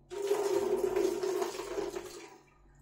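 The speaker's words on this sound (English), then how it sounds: "So let me throw away this water again." Water poured out of a container into a sink or basin, a steady splashing gush that runs for about two seconds and then tails off, close and fairly loud with no talking.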